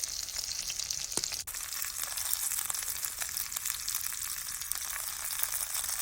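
Fish shallow-frying in oil in a pan, giving a steady, dense hiss of sizzling oil throughout with one brief knock near the start, close and without speech.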